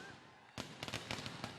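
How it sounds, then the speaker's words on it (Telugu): Firecrackers set off at a political rally in Mangalagiri: a quiet lull, then a sudden burst of rapid, crackling pops in a short irregular string, fairly distant. "చిరంజీవి గెలిచినప్పుడు బ్రహ్మాండంగా బాణసంచా పేల్చాలి, కానీ ఇప్పుడే పేల్చేస్తా ఉన్నాడు"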